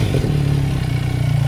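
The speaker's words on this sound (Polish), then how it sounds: "A tak brzmi nowy wydech." A Benelli TRK motorcycle with a new aftermarket exhaust, fitted without its dB killer baffles, holds a steady, deep engine note. The sound is close and continuous for the whole brief moment.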